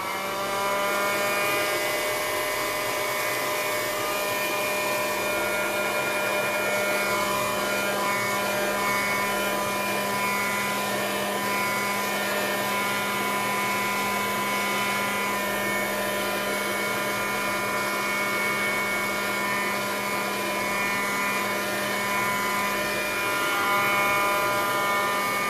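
A heat gun blows steadily on a wooden spoon being altered for mixed media, a constant whirring hiss with a fixed tonal whine, close and unbroken with no talking.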